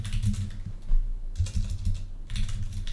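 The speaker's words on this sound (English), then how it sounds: "now I'm just going to type in some code" Code being typed into a database query window on a computer keyboard: rapid, steady keystrokes with brief pauses, close and clear, with no voices.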